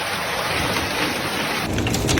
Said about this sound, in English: Video shows marble-sized hail battering one WFLA viewer's yard.